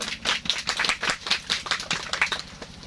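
A small group claps at an Indonesian gathering, giving sparse, uneven hand claps that sound close and loosely rhythmic, with no talking over them.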